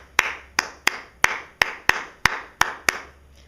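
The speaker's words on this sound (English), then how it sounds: "So that's essentially what I just clapped." Hands clap a short rhythmic pattern, nine sharp, close claps with uneven spacing forming a simple beat, clear and alone in a quiet room.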